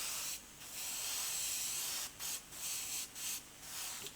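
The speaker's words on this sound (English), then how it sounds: "So we're just going to put some primer on here." An aerosol can sprays primer onto a small bomb part from a Revell 1/32 Messerschmitt Bf110 C-2 model kit: one long hiss, then several short bursts.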